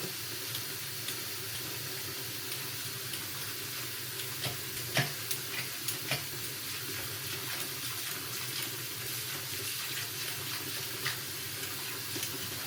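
Tap water runs steadily into a kitchen sink while carrots are rinsed under it, a continuous close hiss with a few light knocks and splashes over about thirteen seconds, no talking.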